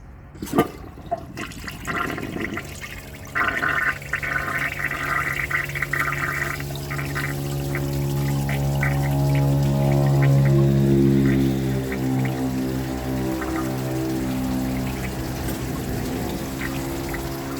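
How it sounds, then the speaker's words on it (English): A 2017 Glacier Bay high-efficiency toilet on its second flush with the handle held down, giving a loud, close, continuous rushing and gurgling of water that swells midway and keeps running for over fifteen seconds. "I'm going to hold the handle down for this second flush and see if it can do anything better"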